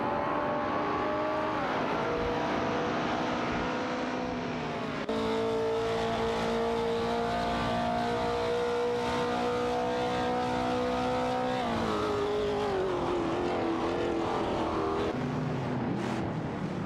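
Race cars in an AI racing video game roar continuously, with steady engine tones shifting pitch as cars battle for position, loud throughout with no talking.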